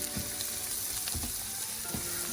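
Rice being stirred into golden shallots in a frying pan for saffron and lemon risotto, a dense close sizzle with a few scraping strokes of the spoon, no voices.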